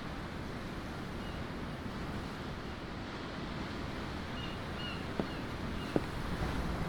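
Ocean waves in the video game Tales of Arise, a steady broad wash of surf and wind heard from aboard a ship, continuous and even, with two faint clicks near the end and no talk.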